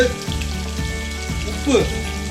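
Onions frying over a fairly high flame in a pan for vegetable biryani give a steady, close sizzle that runs throughout, with a brief louder clatter near the end.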